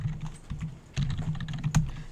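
Computer keyboard being typed on, close and clear, in short irregular bursts of key clicks with a brief pause before the final flurry of keystrokes.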